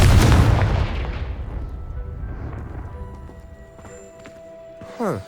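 Confringo spell blast in the Hogwarts Legacy video game, a loud booming explosion with rumbling debris that fades over a couple of seconds, followed by faint scattered clatters and a brief rising magical whoosh near the end.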